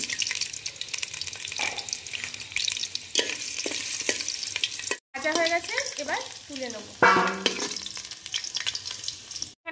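Potatoes fry in a little white oil in a pan with a steady close sizzle and occasional stirring and clatter. Bursts of running water come near the end.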